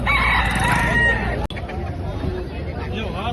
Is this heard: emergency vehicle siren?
no